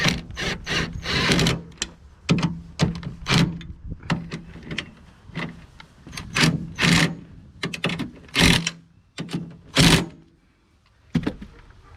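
An impact tool drives bolts while a soft top is installed on an NA Miata, giving repeated short, sharp mechanical bursts and clicks in close succession, each one loud and near, separated by brief gaps and handling noise.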